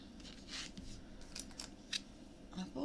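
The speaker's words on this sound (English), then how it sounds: "Pair of scissors." A pair of scissors snips several times in quick, irregular cuts, close and crisp, while a person speaks quietly over the cutting.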